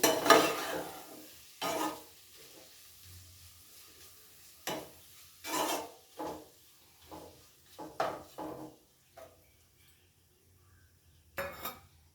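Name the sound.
tomatoes frying in a pan for kaju masala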